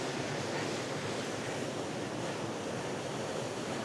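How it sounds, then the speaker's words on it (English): Thunderbird Falls waterfall in winter, a dense, even rushing roar of falling water, loud and continuous with no voices. "But here's the waterfall."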